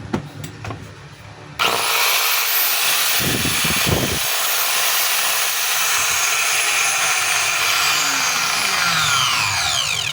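A DeWalt DWE8200 4-inch angle grinder with a fault that throws heavy sparks and sometimes cuts out is switched on after a few quiet seconds, then whines loudly and steadily at close range until the end.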